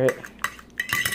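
A spoon stirs coffee in a cup, giving several bright clinks and scrapes against the ceramic in quick irregular bursts, close and clear with no talking.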